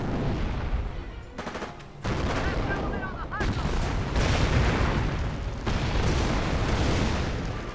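An artillery barrage in the Company of Heroes video game, with repeated heavy booms and gunfire bursts layered over one another, loud and dense, and a faint voice underneath.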